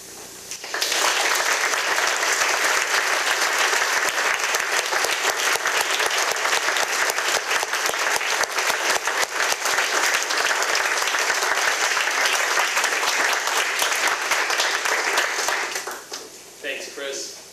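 A high school audience at an addiction seminar breaks into loud, sustained applause, starting abruptly after a second and holding dense clapping for about fifteen seconds before fading, with a voice briefly audible at the end.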